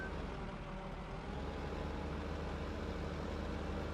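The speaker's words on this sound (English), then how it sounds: "I was trying to talk over the noise of this truck or these engines" A truck engine in Farming Simulator 2015 on Xbox One drones steadily and loudly, a constant low rumble with broadband noise holding level throughout, no voices.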